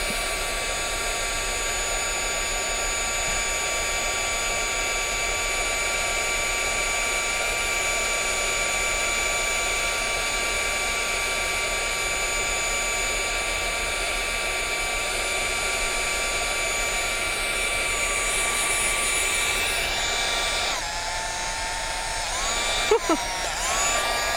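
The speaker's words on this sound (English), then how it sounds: "I think my heat gun's taking a minute to heat up." A heat gun runs with a steady, even blowing whine for the whole stretch, close and fairly loud, with only a small clunk near the end and no talking.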